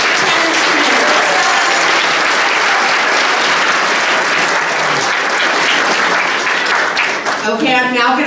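An audience at a 5th grade promotion ceremony at a school applauds the perfect attendance students: loud, sustained clapping from a crowd that fills the whole stretch, with voices rising near the end.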